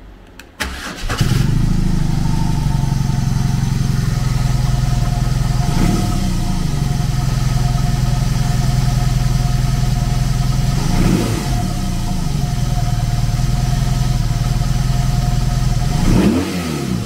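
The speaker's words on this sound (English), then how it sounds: "Powered by an 1802cc twin-cylinder engine, the R18 puts 91 horsepower and 116 foot-pounds of torque through a 6-speed transmission." A 2022 BMW R18 Transcontinental's 1802cc twin-cylinder engine starts and settles into a loud, steady idle with a deep rumble, slight swells recurring every few seconds.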